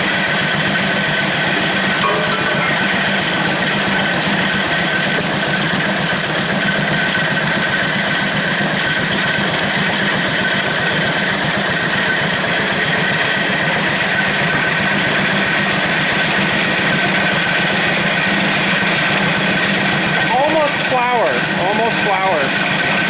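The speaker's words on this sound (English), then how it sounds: "Can't believe that engine's still running." An antique early-1940s engine drives a corn grinder, chugging in a steady, continuous run for the whole stretch with a mechanical rattle and hum, and voices talking faintly beneath it.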